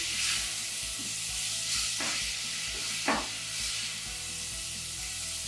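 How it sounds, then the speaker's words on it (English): Minced meat sizzles and fries steadily in a hot saucepan, with a few scraping stirs cutting through the continuous crackle. "So what you want to do here is you just want to brown the meat and soften the meat."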